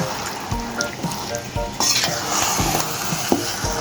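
Beef in a pot on the stove is stirred with scraping, clinking strokes of a utensil against the metal over a continuous sizzle. A louder burst of frying joins partway through, close by.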